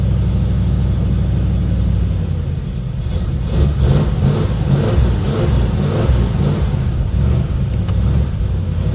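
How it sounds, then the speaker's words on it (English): A 1936 Chevy hot rod engine without an automatic choke revs repeatedly while warming up, loud and close, with rhythmic throttle blips swelling over a steady rumbling idle. "Now he doesn't have an auto choke, so I have to keep revving him for a little bit."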